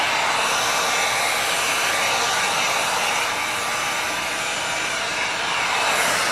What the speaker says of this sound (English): always be careful with your heat gun